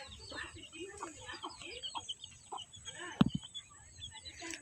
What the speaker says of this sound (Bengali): এই যে মোরগ ছেড়ে দিছি, তারা হাঁটাহাঁটি করতেছে, ঘাস খাইতেছে